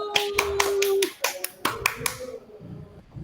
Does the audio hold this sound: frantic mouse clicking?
no